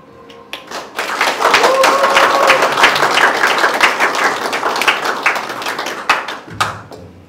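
Audience applause at an open general assembly of a city residents' participatory budget committee in Korea, following a faith-song stage performance by the committee chair. Loud, sustained clapping from a crowd fills several seconds, then tapers off with a few scattered claps.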